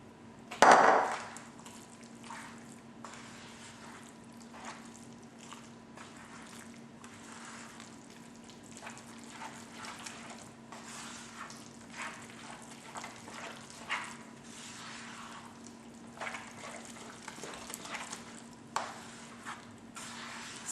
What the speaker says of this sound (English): after I mix this cheese in good